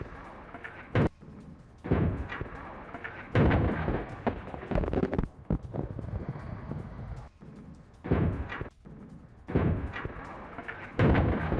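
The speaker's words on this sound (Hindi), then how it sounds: "आईआरजीसी के बासिज फोर्स बेस पर यह बमबारी और इजराइल अमेरिका की यह सबसे विध्वंसक बमबारी" Bombing of an IRGC Basij force base comes as repeated heavy booming blasts and rumbling detonations, some sharp and some rolling, arriving in irregular bursts with noisy gaps between them.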